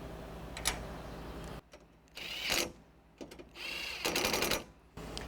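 A power drill boring mounting holes in solar panel bracket plates on a camper, several short whirring bursts separated by quiet pauses, fairly faint and close.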